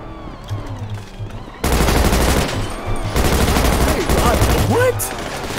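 Rapid gunfire in the video game GTA RP, a dense loud burst of shots that starts abruptly and continues for several seconds, with a voice speaking over it.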